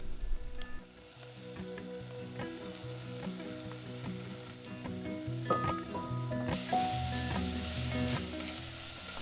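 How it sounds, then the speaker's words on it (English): Onions, garlic, pepper and tomatoes frying in a pan while being stirred, a soft steady sizzle with intermittent spoon scrapes and clinks, growing brighter and louder toward the end. "So we're just mixing up some onions, garlic, a pepper, tomatoes, a bunch of different spices and herbs"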